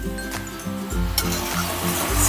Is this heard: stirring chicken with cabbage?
yes